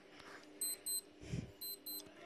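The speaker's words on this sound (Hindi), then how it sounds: "गाइस टाइमर ऐसे बजता है, देखिए" A smartwatch timer alarm beeps in two quick pairs of sharp, high electronic tones, faint and close, over a quiet room with a soft thump between the pairs.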